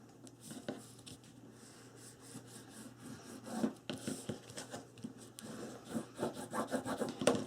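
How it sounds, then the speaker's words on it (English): Rubbing strokes of a bone folder pressing score tape down onto paper, a close, soft scraping with irregular rhythm that grows busier toward the end. "Now you take a bone folder and burnish that score tape so that it sticks down good."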